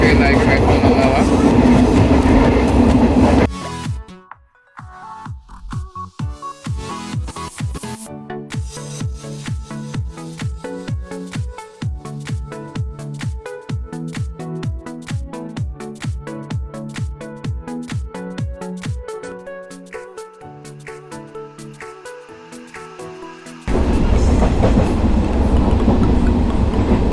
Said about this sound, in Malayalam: ജനശതാബ്ദി എക്സ്പ്രസ്സിലെ സെക്കൻഡ് സിറ്റിങ്ങിനാണ് പോയിക്കൊണ്ടിരിക്കുന്നത്